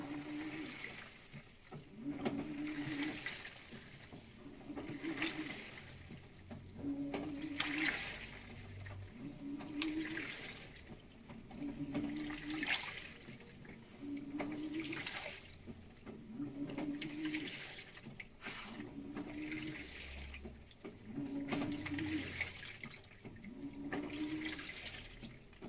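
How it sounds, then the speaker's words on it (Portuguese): Water swishes and sloshes inside an Electrolux LPR 14 kg washing machine on its first rinse cycle, the drum turning in a steady, repeating rhythm of soft surges every few seconds, fairly faint and with no voices. "Esse é o primeiro enxágue"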